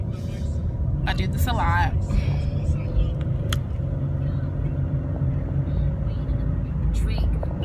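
A car drives along to school with a constant low road rumble and engine drone throughout, while a person talks over it and a few louder knocks and rustles break in.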